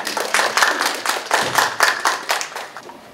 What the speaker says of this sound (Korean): 큰 박수로 김진웅 소장님을 모시겠습니다